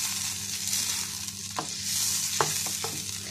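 Chicken frying in a pan for chicken cheese pasta, a steady close sizzle with a few scraping strokes of a spoon stirring it.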